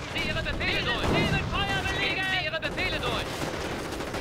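Gunfire from a Company of Heroes battle, with dense overlapping shots and explosions under a steady wash of game noise, with voices and music-like tones in the mix throughout.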